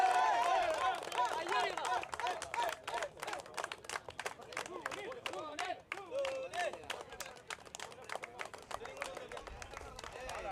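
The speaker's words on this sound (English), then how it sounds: "Give him a big hand of applause." An audience claps for the man of the series at the award presentation of a local cricket league final. Scattered, uneven hand claps rattle on under a loud announcer's voice and general crowd chatter.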